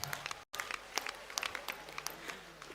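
A graduation audience applauds during a university ceremony, scattered claps rising in a moderate, somewhat distant ripple for a few seconds after a brief cut.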